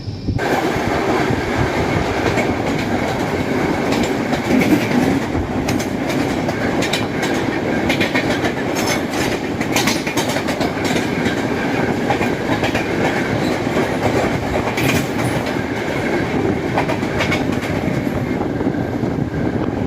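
Rajdhani Express 12394 racing through Ghaziabad, a steady loud rumble of wheels and carriages with clickety-clack beats running the whole time, close by and with no voices.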